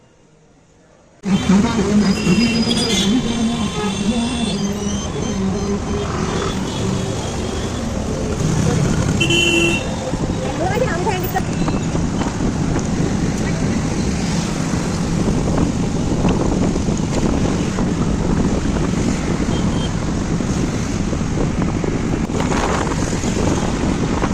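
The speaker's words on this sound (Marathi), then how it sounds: "बघा आम्ही चाललोय टू व्हीलर वर मेट्रो स्टेशन पर्यंत" A two-wheeler ride toward a metro station, with steady wind rush and road noise that roars loud and continuous after a quiet start, and traffic and horn toots blending into the noise.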